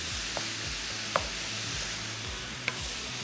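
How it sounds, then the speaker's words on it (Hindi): Minced keema sizzling steadily in a pan for a qeema paratha, a soft continuous frying hiss with a few light scrapes of stirring, close and alone without voices. "अब हम इसमें ऐड कर देते हैं कीमा। इसको हमने थोड़ा सा भूनना है"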